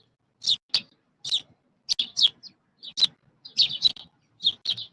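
Birds give sharp, high chirps in short pairs and clusters, clear and fairly close, against near silence.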